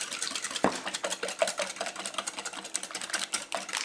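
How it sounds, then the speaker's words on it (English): Medium-grain cornmeal mixture whisked in a bowl, a rapid run of light clicking and tapping strokes at close range, continuous and fairly quiet, with no speech. "So now we'll whisk this together."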